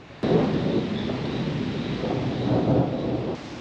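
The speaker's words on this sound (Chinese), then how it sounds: "哦，打雷了！" Thunder rolling over a coastal cycling path near a fishing harbour, one long, deep rumble that starts suddenly, swells and stays loud for about three seconds before easing off, heard in the open with no talk.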